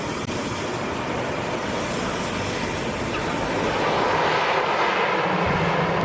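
An airplane on the runway at Lukla Airport produces a loud, continuous engine roar and broad rushing noise that swells slightly toward the end, with no voices.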